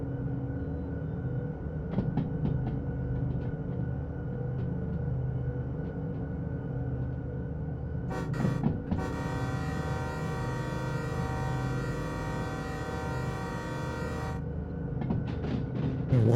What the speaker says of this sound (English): I'm blowing the loud horns through here